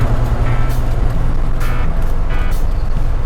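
Car accelerating hard on a highway, a loud continuous engine and road roar filling the interior with faint brief mechanical tones over it, no talk.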